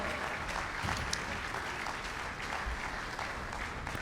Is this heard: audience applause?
yes